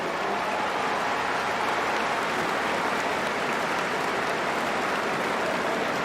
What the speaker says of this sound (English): please put your hands together and give a round of applause to Sean Herson and his team of officials